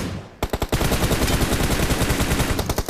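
Automatic gunfire in a shooter video game, with a short quiet lead-in, then a few separate shots followed by a rapid, loud, sustained burst of evenly spaced rounds, with no speech.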